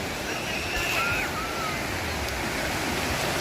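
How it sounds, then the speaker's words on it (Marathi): Steady broadband wash of large sea waves rolling in at the shore at Rajodi, Vasai, continuous and fairly loud, with a breezy hiss over it and no clear voices. "या बघा लाटा, किती मोठ्या मोठ्या लाटा येत आहेत."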